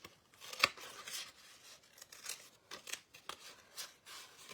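Scissors snip out a paper star in a series of short, crisp cuts, irregularly spaced and close by, with faint rustling between them.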